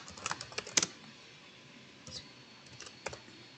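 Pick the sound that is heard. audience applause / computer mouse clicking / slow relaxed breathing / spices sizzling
computer mouse clicking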